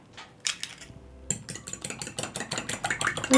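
An egg is cracked into a bowl and whisked for egg wash, a soft tap and crack followed by a quick rhythmic clatter of a fork against the bowl, close and fairly quiet.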